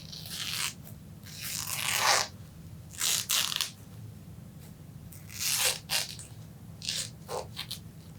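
Scissors cut through wet felt in a few separate crisp, snipping bursts, close and fairly quiet, with short pauses between cuts and no talking.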